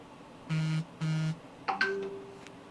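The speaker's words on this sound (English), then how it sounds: "So there's notifications going on." Two identical electronic phone notification beeps sound in quick succession, followed by a brief chime-like alert with a short rising tone, all fairly close over quiet room noise.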